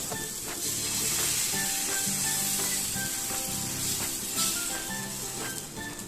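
Moong dal and wheat flour batter sizzles steadily in hot oil on a pan, a continuous close crackling hiss with faint stirring and scraping touches throughout, no voices.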